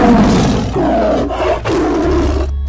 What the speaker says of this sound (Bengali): আর গুহার পেছনে গিয়ে হালুম বাঘ হুঙ্কার দিয়ে উঠল।